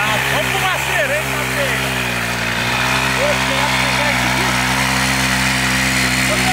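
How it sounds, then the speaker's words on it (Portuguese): Mini motorcycles with small high-revving engines race hard, giving a loud, continuous buzzing whine that rises and falls in pitch as they accelerate, close by. "Nas mini-motos, ó. Aí, ó. É mesmo que vai acelerar pesado."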